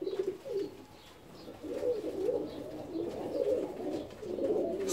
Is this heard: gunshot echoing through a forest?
no